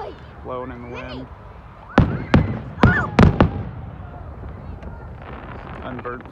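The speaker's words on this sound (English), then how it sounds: "The firework." Fourth of July fireworks in Fernley, Nevada, with a quick run of five sharp booming bursts over outdoor background noise, while people chat before and after the blasts.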